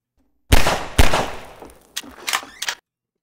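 Gunshots in Half-Life 2's Ravenholm, two sharp loud blasts close together followed by fainter clattering impacts, then silence.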